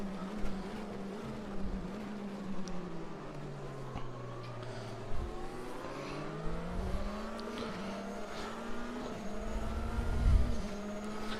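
Historical race car engine in the Automobilista 2 racing game, a steady droning tone with rising and falling revs through gear changes as the car climbs a hill, continuous and fairly loud with no talk.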